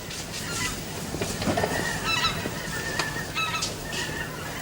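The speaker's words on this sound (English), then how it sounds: "The birds are beginning to fly away already. Swans or geese." Geese honk in a stage sound effect for birds flying away, with several scattered calls over a soft background hiss, fairly near, and no voices.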